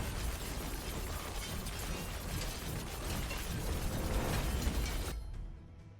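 A poison spike detonates in the video game Achilles Survivor, a dense, continuous roar of crackling bursts and rumble that holds steady for about five seconds before cutting off sharply into quiet.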